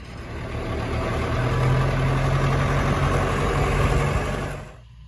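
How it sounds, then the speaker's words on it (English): A Kubota L3750 tractor engine idles steadily at close range for about four and a half seconds, a constant low rumble with no talking, then it cuts off abruptly. "The old Kubota L3750, workhorsing it today."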